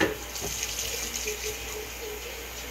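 Tap water runs steadily into a wine-making bucket while it is filled for a 23-litre batch of Costco Merlot Argentina wine, a continuous close splashing hiss with no talk over it.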